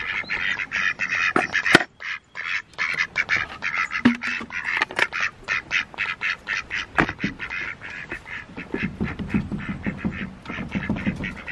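Ducks quack continuously inside a barn, a busy overlapping chorus of nasal calls at close range, with occasional sharp knocks among them.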